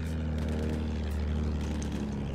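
Plane engine in a tank battle game: a steady propeller drone with a low throbbing hum, continuous and fairly loud throughout the short stretch, no talk over it.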